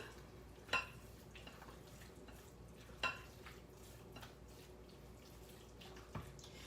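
Salmon cake mixture with butter and lemon juice being stirred by hand in a bowl, a quiet wet squelching with a few soft distinct knocks spaced several seconds apart.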